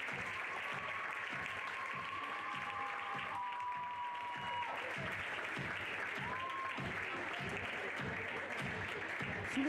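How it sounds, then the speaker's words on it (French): Sustained applause from an audience honoring medal winners at a dressage pony club award ceremony, steady and even across the whole stretch, with a faint tone sliding underneath. "je vous demanderai de les applaudir bien fort"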